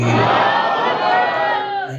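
A large gathering answers a cleric's Nara-e-Takbir call with a loud, sustained collective shout. Many voices roar together for about two seconds and fade slightly toward the end.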